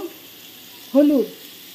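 Rice for basanti polao sizzling in a pan, a soft steady hiss under a brief squeaky scrape of stirring that lasts about a quarter second.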